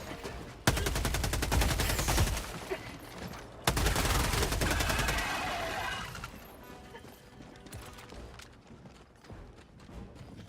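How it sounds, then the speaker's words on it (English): Rapid automatic gunfire in Helldivers 2 dominates the opening, cutting out briefly and resuming in a second loud burst before tapering into scattered shots and fading battle noise; no one talks. "I'm actually having a lot more fun just shooting these guys than anything."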